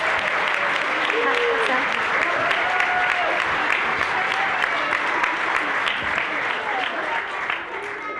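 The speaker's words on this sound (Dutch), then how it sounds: "Ja, geef ze maar even een applaus." Dense applause from a large audience at a Dutch awards event, sustained and loud for several seconds before easing slightly at the end.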